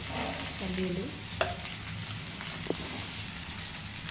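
Okra (lady's finger) fries in a pan in a steady, close sizzle, with a couple of sharp clicks from stirring.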